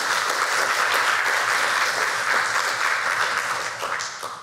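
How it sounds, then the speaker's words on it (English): Audience applause for the panelists at a morning panel discussion during an academic conference, a dense, steady round of clapping lasting throughout and tapering slightly at the end, with no talk over it. "let's give them a round of applause again for their contributions"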